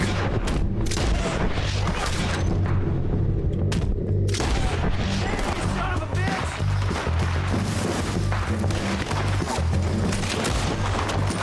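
Gunfire in Red Dead Redemption 2 crackles through a dense, loud in-game firefight, with repeated shots and booms layered over steady low rumble and a voice talking in the background.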